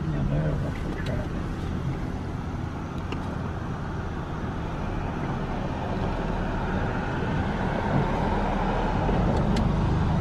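Road traffic passing in front of a residential house on a street, a steady, moderately distant wash of car and vehicle noise with voices talking over it.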